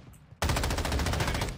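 Sustained automatic LMG fire in the video game Modern Warfare 2: a loud, rapid, unbroken stream of shots bursting in after a brief quiet moment, close and dense.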